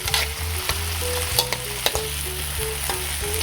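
Tomatoes sizzle steadily in a pan while sardines are sautéed with chayote, a continuous close frying hiss with occasional clicks of stirring over a soft repeating background tune.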